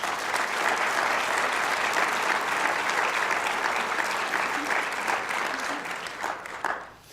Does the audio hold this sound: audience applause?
yes